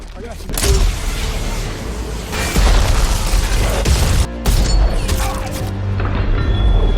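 RPG rocket blast in an action-film firefight, loud dense crashing bursts with booming low rumble and gunfire-like pops filling the scene, a brief dropout and then more heavy explosive noise, close and overwhelming.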